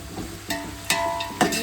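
Onions and salt being stirred in a pot for a large mutton biryani made with seeraga samba rice: three scraping strokes of a spoon over a steady, soft sizzle, close and fairly loud, with no talk.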